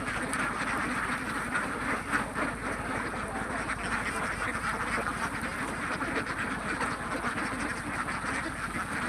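Dense chorus of ducks quacking continuously on a large farm of about 1200 laying ducks, many birds overlapping at close to mid range in a steady, busy din with no talk.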